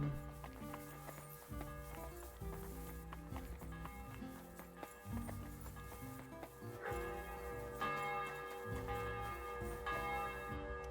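Church bells ring in a medieval town in the video game Kingdom Come: Deliverance II, sounding steadily and loudly throughout over a layered game soundscape with music-like tonal textures.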